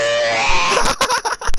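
A person vocally imitates a screeching noise, a strained high wailing screech that breaks into rough, choppy grunting bursts, loud and close.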